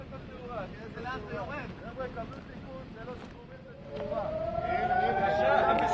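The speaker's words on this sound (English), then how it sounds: "More sirens going off right now in southern Israel" A rocket warning siren wails in southern Israel, a rising tone that swells in over noisy wind and a voice talking, getting louder toward the end.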